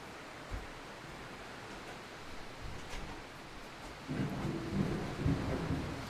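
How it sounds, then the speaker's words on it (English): Rain falls outside with thunder, a steady soft hiss broken by low rumbles that swell toward the end, faint and distant behind a closed door, no talk. "By the way, it's raining."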